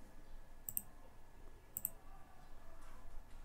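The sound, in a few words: computer mouse clicking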